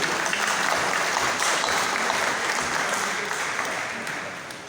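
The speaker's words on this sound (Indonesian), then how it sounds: "Kita berikan aplaus dulu buat Mas Leo." Sustained audience applause at a 2022 national congress of the Merpati Putih martial arts association, a dense wash of many hands clapping steadily for about five seconds, fairly loud and close, tapering slightly toward the end with faint voices underneath.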